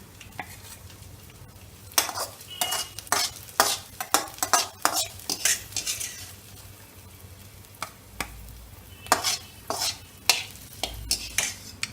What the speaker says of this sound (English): Now our vegetable is sauteed well. We'll take out it from pan.